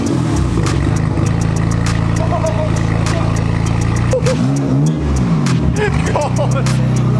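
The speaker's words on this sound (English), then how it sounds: "Now it's YouTube religion to start the car with no exhaust on." BMW M4 engine running with the exhaust removed, loud and raw, a steady heavy idle broken by a couple of sharp revs midway, with a voice talking over it.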